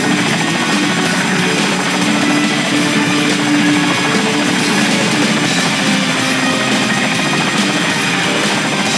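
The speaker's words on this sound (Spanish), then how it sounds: "¡Helicóptero!" Helicopter in the action game Pursuit Force Extreme Justice, a steady loud rotor drone with a humming tone filling the whole stretch amid busy game noise, no talk.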